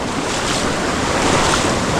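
A forest stream flowing strongly, a loud, dense, continuous rush of water heard close up without pause.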